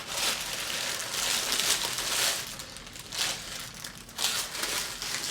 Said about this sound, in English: Let's take away the paper.